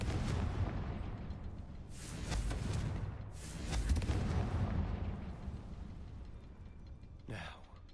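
Confringo fire spell explosions from the video game Hogwarts Legacy: two loud booming blasts a second or so apart with a rumbling tail, then a brief sharp whoosh near the end.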